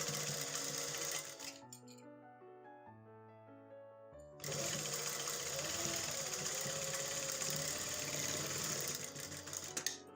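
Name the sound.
sewing machine stitching the edge of a trouser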